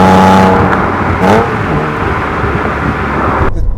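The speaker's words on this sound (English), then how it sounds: "That naturally aspirated straight six is just glorious." A loud engine roars and revs up close, a smooth straight-six wail rising and settling with steady mechanical hum.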